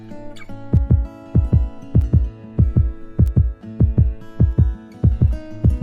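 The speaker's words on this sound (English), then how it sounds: "her heart pounding in her chest." Loud heartbeat sound effect of a pounding heart, steady lub-dub double thumps repeating about every half second, deep and close, with no voices.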